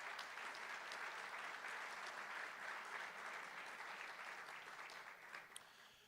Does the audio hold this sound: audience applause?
yes